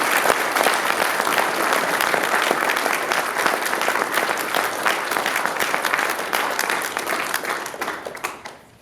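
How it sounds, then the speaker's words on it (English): Sustained applause from an audience at a Troop 200 Eagle Scout Court of Honor, steady dense clapping that stays loud throughout before tapering off near the end. "Now let's give our newest Eagle Scouts one more round of applause."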